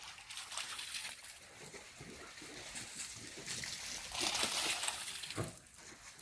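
Dogs splash and slosh through a creek while running and playing, with irregular watery splashes and spray bursts throughout, one louder rush of splashing near the end.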